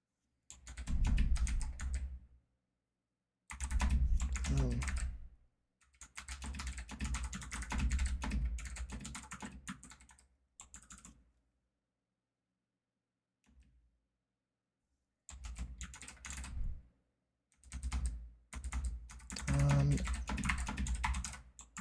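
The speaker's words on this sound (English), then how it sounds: "I'm the worst at typing." Computer keyboard typing in several long bursts of rapid, steady clicking, close and fairly loud, separated by pauses of silence, with no speech.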